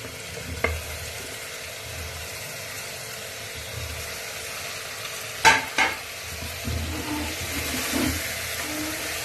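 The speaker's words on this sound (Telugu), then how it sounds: "కొంచెం సేపు ఆయిల్లో బాగా వేయించాలి." Stuffed ivy gourd pieces fry in hot oil with a steady soft sizzle, broken by a couple of sharp spoon-against-pan clatters as they are stirred.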